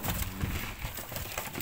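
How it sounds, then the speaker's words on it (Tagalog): Hungry pet pigeons coo and flutter in their coop, soft low murmuring calls repeating close by, steady and fairly quiet without talk. "gutom na gutom yung ating mga alagang kalapati mga idol."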